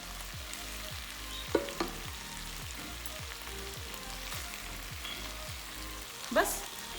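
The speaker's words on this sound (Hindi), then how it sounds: "ये जो हमने फ्राई किए थे आलू, इनको मैं इसमें डाल देती हूँ।" Fried potatoes go into a pot of cooked sliced meat over very low heat for Memoni koota gosht; a steady soft sizzle runs throughout with regular stirring scrapes and two brief clinks, no talking.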